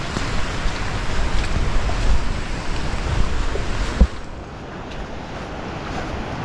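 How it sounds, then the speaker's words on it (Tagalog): Strong wind roaring and buffeting the microphone outdoors, a loud rough rush that eases slightly after a sharp thump midway, with no voices. "Hangin, hangin, ang lakas ng hangin."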